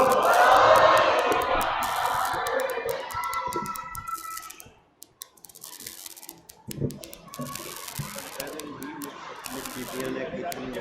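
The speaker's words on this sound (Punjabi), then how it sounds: "ਜਕਾਰੇ ਦਾ ਜਵਾਬ ਉੱਚੀ ਆਵਾਜ਼ ਵਿੱਚ ਦਿਓ, ਬੋਲੇ ਸੋ ਨਿਹਾਲ" A Sikh congregation shouts the jaikara response together, a loud massed roar of voices that swells at the start and fades, followed by scattered chatter and murmuring.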